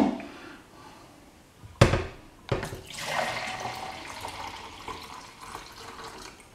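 Liquid in a home winemaking setup for Ribena wine is poured back into a jug sterilised with Camden tablets. A sharp splash lands first, then a steady pouring and trickling continues close by, with no voices.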